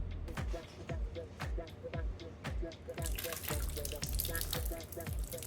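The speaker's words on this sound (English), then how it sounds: "I like to squeeze most of the water or all of the water out of it after it's been rehydrated" Rehydrated substrate for a milk frog enclosure is squeezed by hand, giving repeated wet splashes and drips of water falling into a container, a steady rhythmic series up close that grows busier and louder toward the end.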